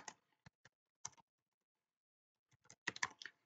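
A code comment is typed on a computer keyboard while programming in Lua, heard as short, close clicks of keystrokes in two brief bursts separated by a pause, with no talking.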